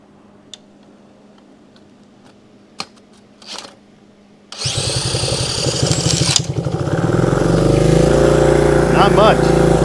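A 1971 Honda CB100 motorcycle with a stuck carburetor float, a few quiet clicks and taps, then the small engine catches and runs with a rapid, uneven putter that grows louder and revs, close by.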